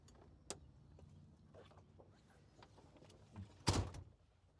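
Occupant compartment door of a truck being opened and shut during a pre-trip inspection, with a few faint latch clicks and then one loud, close slam near the end and no talking.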